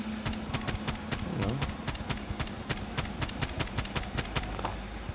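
An M16 fired in single-fire mode in Call of Duty Mobile battle royale, giving a steady run of sharp, evenly spaced shots, several per second, over continuous game background noise.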